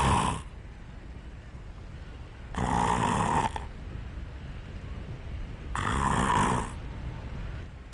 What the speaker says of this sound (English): World's lowest snore.